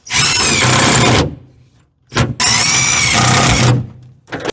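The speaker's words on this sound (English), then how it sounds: "I am using drill screws for now, but we'll bolt it in eventually, probably." A power drill drives self-drilling screws into a panel on a 1965 Chevrolet C10 truck, with two long, loud whirring bursts and a couple of short blips between pauses.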